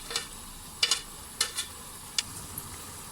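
Ginger and green chillies stirred into a nearly finished gobhi chicken curry, with a faint sizzle under a few distinct spoon scrapes spaced irregularly across the pot, with no talking.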